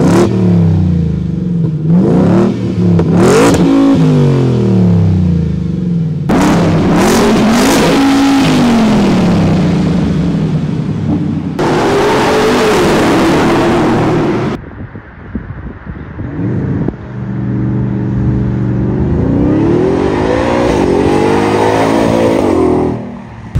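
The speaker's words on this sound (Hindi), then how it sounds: "जो प्री फेसलिफ्ट में एग्जॉस्ट आपको खतरनाक आता था, एंड जो खतरनाक वे में जो वो गाड़ी रेव करती थी।" A facelifted Ford Raptor's engine and exhaust rev repeatedly, loud and close, with sharp rising and falling surges, a sustained roar in the middle and a long climbing rev toward the end, no talking over it.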